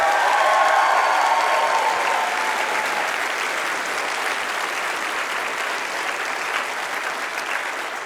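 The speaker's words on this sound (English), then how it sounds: "Big round of applause for Dan here." A game show studio audience applauds a contestant, a loud sustained wash of clapping and some cheering that tapers slightly but continues to the end.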